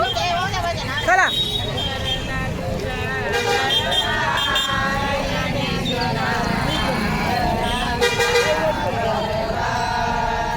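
Vehicles pass along a road during a Pandharpur pilgrimage on foot, with engine rumble and repeated horn toots mixed into a busy babble of voices and nearby singing, loud and continuous throughout.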